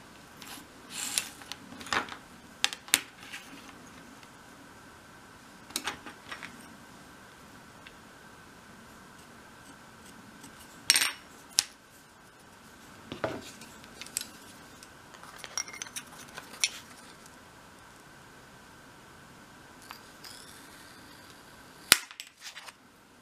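Small sheet-wood pieces being cut for the pane dividers of an arched dolls house window give sharp, isolated snaps and clicks at irregular intervals, close by, over a faint steady room hum.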